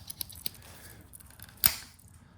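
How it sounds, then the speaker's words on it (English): Big scissors on a World War 2 multi-tool knife are worked open and shut, giving a few sharp metallic clicks and one louder snap against quiet background, no talking. "Then you got your big scissors or shears, whichever one you want to call them."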